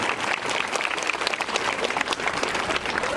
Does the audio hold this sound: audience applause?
yes